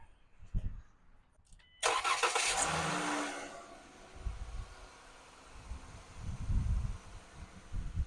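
A 2017 Dodge Journey's engine cranks briefly and catches, followed by a fairly loud settling idle with some uneven low rumbling pulses, heard close up in a garage setting.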